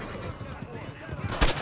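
Gunfire in the video game Red Dead Redemption 2, out in open country near wild horses: one sharp, loud shot bursts out near the end over a low, rumbling game ambience.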